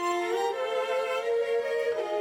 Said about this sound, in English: Then to that, I've added, and I'll play them just on their own so you can hear them, string parts.